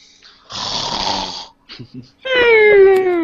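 A voice imitates snoring: a loud rasping inhale, a few short snorts, then a drawn-out groaning exhale, close and exaggerated.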